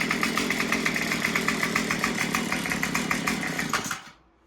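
A small engine idles with a steady, fast chugging rhythm close by, then cuts off abruptly near the end, leaving quiet.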